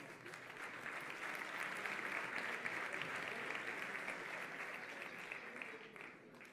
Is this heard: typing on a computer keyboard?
no